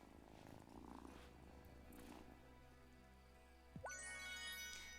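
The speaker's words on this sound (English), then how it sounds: "Let's go say hi to our cat friend." A cat in the farming life-sim game Wylde Flowers purrs softly and steadily under light rain-like patter, followed by a bright chiming game tone near the end; no one speaks.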